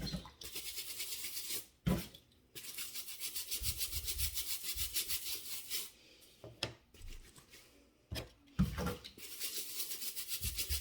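A stained shirt being scrubbed hard with cleaner, rapid rhythmic brushing strokes in long close bursts separated by short pauses, with no talking.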